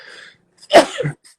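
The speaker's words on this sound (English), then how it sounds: "I feel like I'm going to sneeze." A single sharp, close sneeze bursts out after a brief breathy intake and is followed by a short exhale, during a livestreamed talk show.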